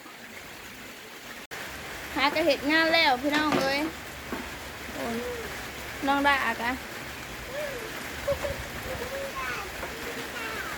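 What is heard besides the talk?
rain falling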